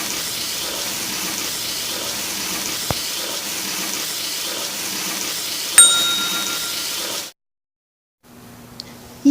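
Tap water runs steadily, rinsing bleach out of a lace hair closure in a sink. A loud, even stream is heard alone, with a brief clink midway, before the water suddenly shuts off into near silence.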